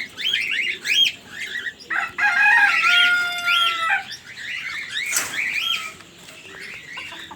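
Desi chickens cluck and call close by while a rooster crows loudly in the middle, with other birds chirping around them in a backyard pet enclosure.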